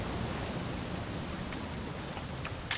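Steady rain patters in the video game What Remains of Edith Finch, a soft, even hiss of falling drops with no voices.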